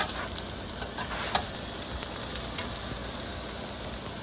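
Aloo paratha frying in a pan while being turned, giving a steady close sizzle and crackle throughout with no talking.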